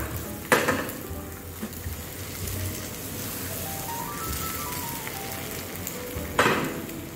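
An egg is cracked into a hot pan for an egg sandwich, producing a sharp tap, then a steady close sizzle with occasional clinks of utensils against the pan and no talking.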